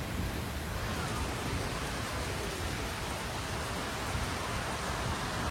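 Steady, dense rain hiss at a hill station in Kausani fills the whole stretch, a continuous broadband wash with no breaks and no voices.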